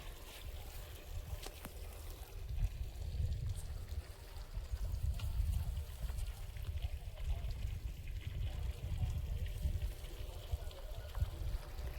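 Irrigation water runs through a channel into a paddy field, a soft continuous gurgling and trickling flow, fairly faint and steady.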